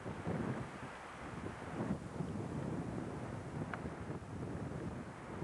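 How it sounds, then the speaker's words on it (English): Wind gusting across an outdoor deck among dense northwest evergreen trees, a steady broad rushing roar with buffeting against the microphone, fairly faint and continuous with no voices. "It's windy there on any given day."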